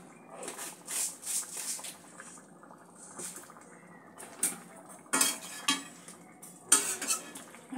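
Spatula scraping and stirring papaya with poppy seeds, green chillies and sugar in a pan, in irregular bursts of scraping with faint clinks, close and moderately loud, with no voices.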